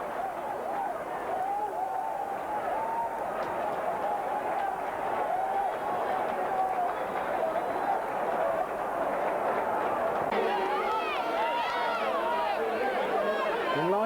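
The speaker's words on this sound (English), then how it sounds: "Delighted supporters." Delighted football supporters cheer a goal at a 1992/93 FA Cup fixture, a dense, sustained crowd roar that stays loud throughout and swells further near the end.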